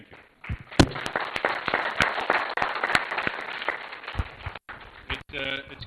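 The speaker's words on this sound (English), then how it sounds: "Give yourselves a round of applause for this fantastic meeting." Audience at the ENOG 12 network operators' conference in Yerevan claps for the meeting, a dense burst of applause lasting several seconds with a few sharp louder claps, then trailing off near the end.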